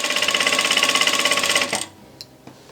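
A Vevor industrial sewing machine runs at high speed in a fast, even mechanical chatter of needle strokes for under two seconds, then stops abruptly, leaving a couple of faint clicks.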